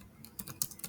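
A computer keyboard is typed on while SQL code is entered, giving a quick burst of four or five faint, close keystrokes with no talking.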